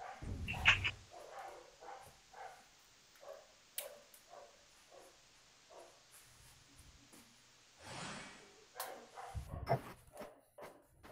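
Dogs in a video game bark in a string of short, sharp yaps, then pause briefly before a louder flurry of barking near the end, all heard close and clear.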